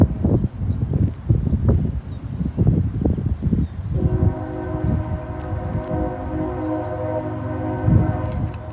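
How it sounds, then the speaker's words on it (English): A train passes a few miles from outdoor grounds with a long, sustained horn blast over a rumbling rail roar. The horn is loud and steady and sounds fairly distant, with no talking. "And a train's going by."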